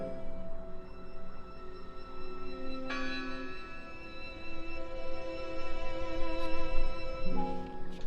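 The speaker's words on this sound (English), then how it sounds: "I heard the bell!" A church bell tolls in the video game Draugen, its ringing tones layered over a steady ambient bed, with a fresh strike near three seconds and another shift late in the clip; no speech.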